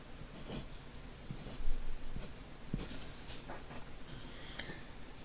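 A pen scratches out binary digits by hand on paper, short faint strokes and taps coming in uneven bursts, close and quiet with no talking.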